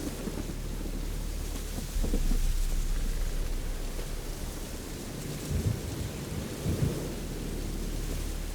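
Steady rain pours in The Witcher 3 while thunder rumbles and swells in heavy rolling peaks, one continuous loud storm with no voices.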